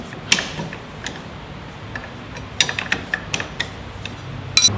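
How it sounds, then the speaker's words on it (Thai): Wrench turning out the clutch cover bolts on a Honda Wave 110i motorcycle, scattered sharp metallic clicks and ratcheting ticks over a quiet workshop background. "ก็ถอนน็อตคัดกัน น็อตคัดเบอร์สิบเหมือนกันสี่ตัว เราหมุนย้อน"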